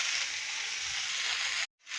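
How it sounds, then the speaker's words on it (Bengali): Potato, pumpkin and cauliflower pieces frying in oil for khichuri, a steady close hiss of sizzling that cuts off briefly near the end before resuming. "দেখো বন্ধুরা, খিচুড়িতে আলু কুমড়ো ফুলকপি দেবো বলে ভাজছি।"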